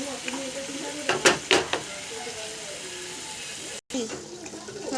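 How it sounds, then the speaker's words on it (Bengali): Spices with salt, chilli, cumin and turmeric frying for a prawn curry, a soft sizzle punctuated by a few sharp scraping stirs early on, then a quieter simmering hiss with a short break. "মশলাটাকে ভালো করে কষিয়ে নেব"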